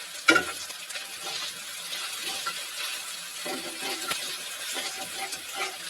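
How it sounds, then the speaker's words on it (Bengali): Beaten egg frying and being scrambled in a pan for a red pasta dish, a steady soft sizzle with a spatula stirring and scraping now and then, close and moderately quiet, no talking. "এক সাইড থেকে ডিমটাকে আমি ঝুড়ি ঝুড়ি করে নেব।"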